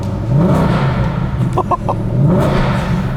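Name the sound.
supercharged V8 car engine revving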